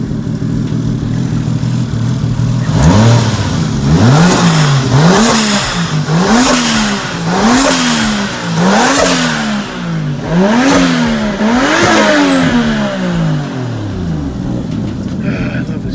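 A Lexus IS300 with a swapped 1JZ engine revs up and falls back about six times in a steady rhythm, loud and close, each rise rasping harshly before dropping to idle.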